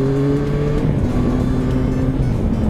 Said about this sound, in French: Ça serait presque bruyante ta moto en fait